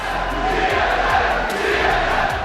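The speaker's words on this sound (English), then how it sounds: "Ooh, you got a boo." An arena crowd at a 2013 League of Legends World Championship group stage match lets out a loud, sustained boo, a dense roaring wash of voices with rhythmic thumps running underneath.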